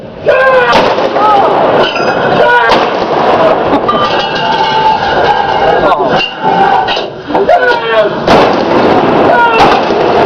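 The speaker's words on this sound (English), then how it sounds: "4-inch shoot." 4-inch naval gun on HMS Belfast firing during a London gun drill demonstration, several sharp loud blasts and metallic clanks mixed with shouted commands from the crew.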